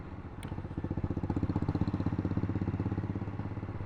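An Aprilia RS457 motorcycle engine while riding in economy mode through traffic, a loud, close, rapidly pulsing throb that swells steadily and holds an even rhythm.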